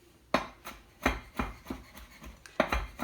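A knife chops through rolled-up fresh basil leaves on a cutting board, cutting it into julienne: sharp, distinct strikes arrive at an irregular pace, four or five close-up blows on their own with no one talking.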